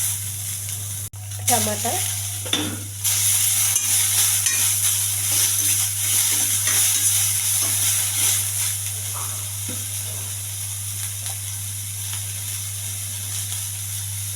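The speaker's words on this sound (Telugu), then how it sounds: "కొంచెం బాగా వేగించాలి." Ginger and tomato fry for millet upma in a hot pan, a loud, steady sizzle with occasional stirring scrapes, continuing under brief talk and a constant low electrical hum.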